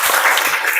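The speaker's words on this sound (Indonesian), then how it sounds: "beri tepuk tangan untuk kita semua" A short burst of group clapping from a classroom, several hands together, brief and fairly close.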